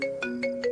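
A phone rings unanswered with a bright electronic ringtone, a quick tonal pattern repeating about every fifth of a second, faint and alone.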